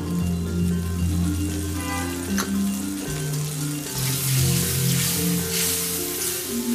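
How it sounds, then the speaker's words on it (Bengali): Pigeon curry sizzling steadily in a pan as turmeric is stirred in, a continuous close frying crackle with watery hiss over low background hum and no voice. "এই পর্যায়ে আমরা দিয়ে দিচ্ছি হলুদ"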